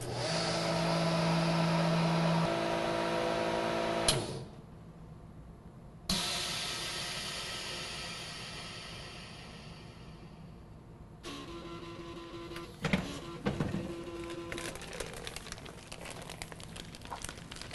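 A chamber vacuum sealer runs on heavy soup set to 97.5% vacuum: a loud steady pump roar that cuts out, then restarts, followed by hissing air release and crackling, bubbling noises near the end.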